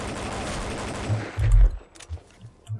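Gunfire in the shooter game Counter-Strike: Condition Zero Deleted Scenes: a sustained noisy burst followed by a few heavy, low thuds of shots, loud and close.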